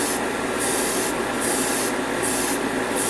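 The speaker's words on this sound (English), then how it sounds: "I'm going to metallic paint all the inner frame parts, all the trim parts that I've already masked off." Spray painting Gundam model inner frame and trim parts with metallic paint: loud, steady airbrush hiss broken into four regular bursts with short pauses between them, close up, with no talking.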